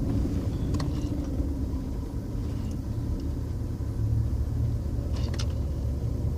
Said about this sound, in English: To me, it seems like an exhaust leak.